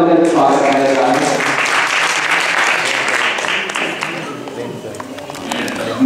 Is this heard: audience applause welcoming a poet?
yes